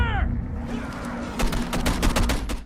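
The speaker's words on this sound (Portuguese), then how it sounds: "O Pennington dispara alguns tiros" A rapid burst of gunfire in the video game Condemned: Bloodshot, several sharp shots in quick succession over a dense, loud background of game sounds.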